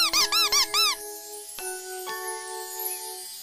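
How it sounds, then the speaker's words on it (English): A squeaky toy mouse gives four quick, bright, close squeaks in a row, followed by a few faint ringing tones. "It sounds like a mouse. It is a mouse. Yes, a toy mouse."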